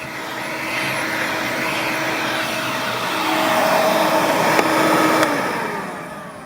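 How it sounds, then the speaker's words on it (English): A vacuum runs alongside a heater drying a car floor, producing a steady, loud motor whine and airy rush that swells slightly toward the end, with no voices. "I'm going to use a vacuum and a heater to dry this"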